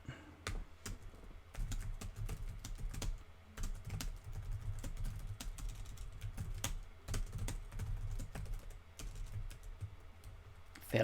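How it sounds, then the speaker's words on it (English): Quick bursts of keystrokes clatter on a computer keyboard, coming in irregular clusters with short pauses, close and fairly quiet. "Fair mashing the keypad today."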